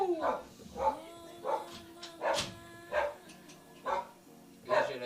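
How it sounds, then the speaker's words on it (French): A dog barks and yips repeatedly at a steady pace, about seven short bursts spread evenly, moderately close, with a faint tonal background hum. "j'ai le chien qui jappe en même temps"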